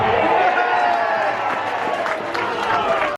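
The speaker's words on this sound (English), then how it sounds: "Biggest cheer of the day as Charlie keeps warm." A football crowd at St Albans City cheers and applauds steadily, a broad continuous roar of many voices that holds at an even level throughout before cutting off abruptly.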